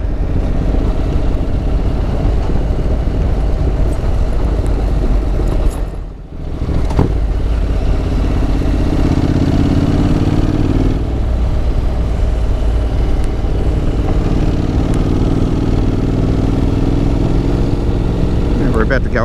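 Honda NC750X adventure motorcycle riding along a dirt road, a steady loud engine drone with wind rumble throughout, a brief dip in the middle, and talk over the noise.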